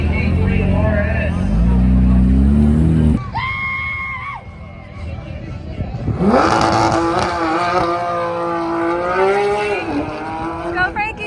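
A Porsche GT3 RS races a Tesla Model S Dual Motor, the Porsche's engine revving loudly through rising gear changes before a short pause, then another hard run under crowd shouts and cheering.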